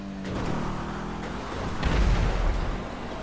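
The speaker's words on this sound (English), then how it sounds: "I just heard like a fucking explosion on like the left hand of my screen" Explosion during a Grand Theft Auto V custom race, a muffled low boom swelling into a rumbling roar that lingers for about a second under ongoing game noise.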